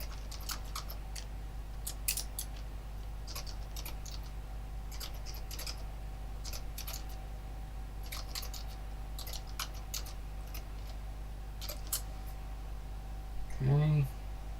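Light clicking of typing on a computer keyboard in bursts of quick keystrokes with pauses, fairly faint over a steady background hum, with a brief voice-like sound near the end.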